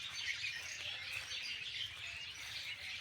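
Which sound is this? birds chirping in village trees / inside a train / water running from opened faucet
birds chirping in village trees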